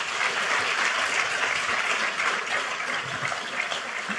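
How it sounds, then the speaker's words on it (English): A crowd at a National Archives 250th anniversary celebration of the Declaration of Independence applauds the board members, a sustained, even wash of many hands clapping with no speech. "I would like for them to just raise their hands so that you can give them a round of applause"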